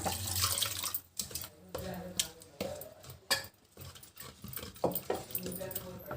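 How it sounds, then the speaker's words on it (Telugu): Water splashes and trickles in short bursts close by as it is poured over ridge gourd for a curry, mixed with clinks of utensils and a voice talking over it. "ఈ వాటర్ పోసేద్దాము"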